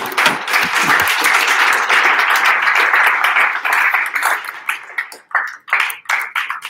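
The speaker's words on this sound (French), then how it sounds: "Applaudissements." A room of attendees at a talk on explainable AI and data governance claps for the departing presenter, dense applause at first that thins into scattered individual claps near the end.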